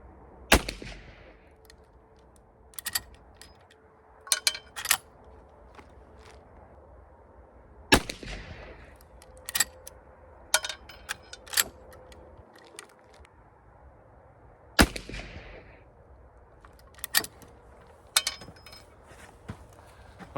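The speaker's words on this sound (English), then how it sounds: "I'm gonna just shoot it on 25." Three loud, sharp rifle shots from a Taylors rifle at an outdoor range at 25 yards, spaced several seconds apart, with smaller clicks and handling noises of the action between them.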